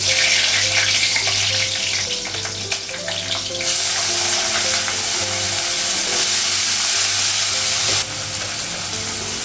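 Whole green chillies dropped into hot oil crackle and sizzle loudly and close, a dense continuous frying hiss that jumps in intensity partway through, with a faint tonal hum underneath and no speech.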